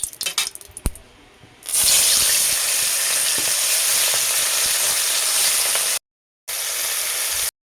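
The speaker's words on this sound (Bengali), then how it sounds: "দেখতে পাচ্ছ বন্ধুরা, কড়ার তেল গরম হয়ে গেছে। এরপর আমি মাছগুলো দিয়ে দেবো।" Charapona fish frying in hot oil in a wok, a loud, steady sizzle that bursts in after a second of scattered clinks and holds, with a brief gap near the end.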